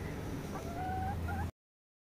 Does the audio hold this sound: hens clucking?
yes